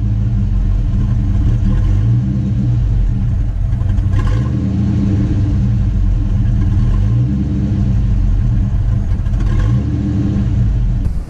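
A 1985 Ford Mustang Foxbody LX 5.0 with a swapped engine and throttle body injection idles loudly nearby, a steady deep rumble with a slight lope and a few small rises in revs.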